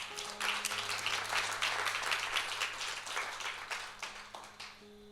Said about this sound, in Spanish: Si usted lo cree, déle un fuerte aplauso a Dios.